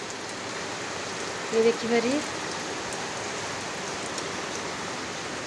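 Heavy rain pours steadily onto a roof the day after a cyclone, a dense, even hiss filling the whole stretch, with a brief burst of voices breaking in near the middle.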